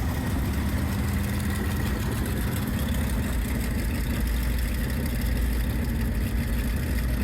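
A 1984 International S1600 diesel truck idles steadily with a low, rough rumble and a quiet muffler, a constant even drone with no talking.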